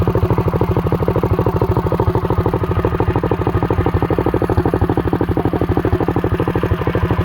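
A Trailmaster MB200-2 mini bike's small single-cylinder engine runs close by at a steady idle, its rapid even putter and mechanical clatter thumping in a constant rhythm with no talking.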